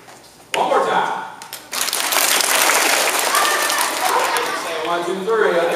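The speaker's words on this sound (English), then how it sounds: "say applause, I want you to start clapping your hands" Elementary school assembly children clapping on cue, starting with a short voice, breaking briefly, then surging into loud sustained applause with children's voices mixed in.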